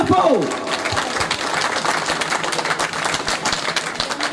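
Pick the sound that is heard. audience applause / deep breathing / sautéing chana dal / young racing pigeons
audience applause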